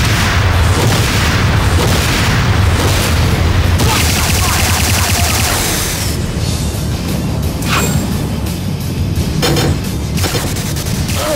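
Explosions rip through a Nod facility in a video game: a dense, sustained barrage of loud booms and rumbling blasts with crackling debris, continuous and close for over ten seconds.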